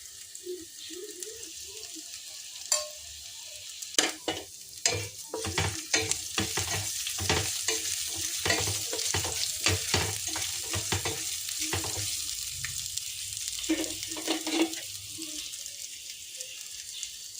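Ginger paste, cumin and turmeric being stirred into a gongura snack of kabuli chickpeas and vermicelli, with a sequence of spoon scrapes and clinks against the pan over a soft sizzle and no talk.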